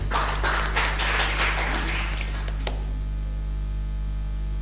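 Applause and clapping ring out for contestant D at a school quiz olympiad final, a dense burst of many hands for about two and a half seconds before cutting off over a steady hum.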